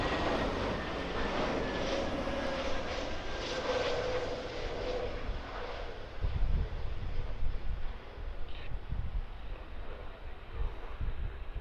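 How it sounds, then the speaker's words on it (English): A Turkish Airlines Airbus A321neo from Istanbul approaches to land at Birmingham Airport, its engines a broad roaring rush with a thin whine gradually falling in pitch, swelling louder toward the end under some wind noise. "the Turkish A321neo about to land"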